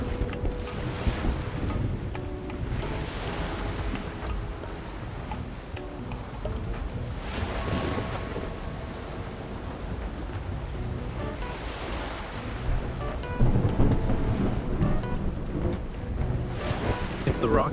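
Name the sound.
stormy ocean waves and thunder at sea, from video game Love and Deepspace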